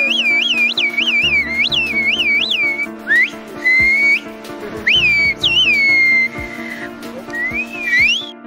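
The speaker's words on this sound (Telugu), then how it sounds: "టర్కీ దేశంలోని కుస్కోయి అనే ప్రాంతంలో విజిల్ లాంగ్వేజ్ని కమ్యూనికేషన్ కోసం ఉపయోగిస్తారు." The whistled language of Kuşköy, Turkey carries as shrill, melodic whistles rising and falling in pitch, in phrases with short gaps, over a low background hum.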